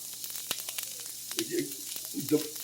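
Onions caramelizing in a pan give off a soft, steady sizzle, with a few scraping stirs and light clinks rising briefly above the frying hiss.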